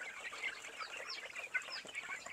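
Chickens on a small farm raising native and giant breeds, clucking and calling in a busy overlapping chatter throughout, moderately near with faint rustling, no one talking.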